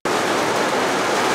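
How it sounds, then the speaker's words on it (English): Loud rain falling outdoors, a steady dense hiss of drops that begins abruptly and holds at an even, heavy level throughout, with no other sounds over it. "Wow, this rain is pretty damn loud."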